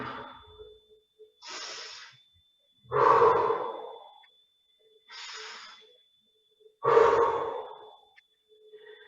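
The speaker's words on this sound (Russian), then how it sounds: "Набираем животом, дышим животом, набираем воздух в живот и выталкиваем живот." Deep belly breathing during a morning exercise routine: slow alternating inhales and exhales, four breath cycles in an even rhythm, close and clear with quiet pauses between breaths.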